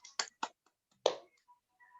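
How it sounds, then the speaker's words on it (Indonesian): Classroom students clap for a classmate named Maria: a few sharp, separate hand claps, sparse and fairly quiet, with a faint voice near the end. "kita kasih tepuk tangan untuk Maria"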